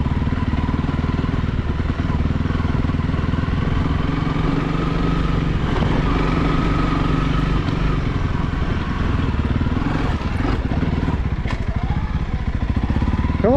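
A Honda CRF300L motorcycle engine runs steadily in arctic cold around -10°C, a loud, close, continuous low drone and chug with some clattering toward the end and no clear talking.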